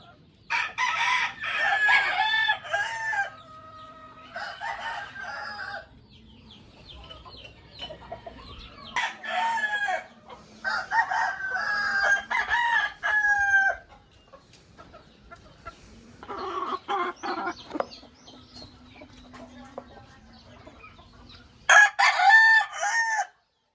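A gamecock breeder rooster crows repeatedly and loudly close by, in several long bursts separated by short pauses, with soft clucking between the calls.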